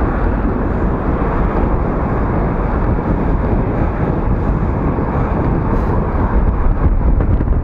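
Strong wind buffeting a clip-on Firefly 8S camera's microphone outdoors, a loud constant low roaring rumble with no letup, dense and close, covering everything else.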